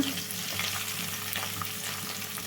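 Bitter gourd pieces, sliced onion, crushed garlic and cumin fry in hot oil in a pan, giving a steady close sizzle with faint scraping from stirring throughout.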